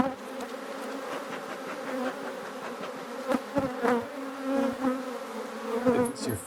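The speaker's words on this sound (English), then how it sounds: "A lot of buzzing and potential danger and stinging and stuff." Many bees buzz densely around close by, a steady hectic drone with individual insects swelling louder and passing near, with no talk.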